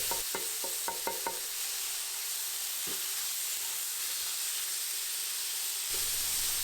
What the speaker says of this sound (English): we'll go ahead and just throw in the onions and stir fry everything for just maybe 30 seconds, a minute